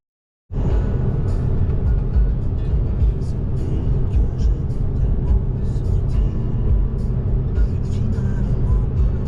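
A Jaguar E-Type sports car engine rumbles steadily nearby, with low growling drone and road noise throughout after a brief silent start.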